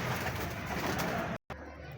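Pigeons coo steadily and close by for almost a second and a half, then sound breaks off briefly before a quieter stretch of cooing returns; no one talks over them.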